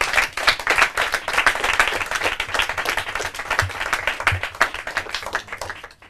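An audience at the finals of a Portuguese-language competition bursts into loud, close applause of many hands that carries on for about six seconds before easing off.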